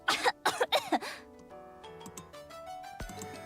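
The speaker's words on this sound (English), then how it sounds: "starts coughing violently and falls onto the desk." Several harsh, violent coughs in quick succession up front from a character in the video game Goddess of Victory, then fading into quiet tonal background music with a faint thud near the end.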